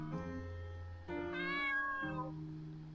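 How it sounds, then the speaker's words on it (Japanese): A cat meows in the video game Chloe's Requiem, giving a few drawn-out, tonal mews one after another, clear and close against a soft background with no talk over them. "猫の声。"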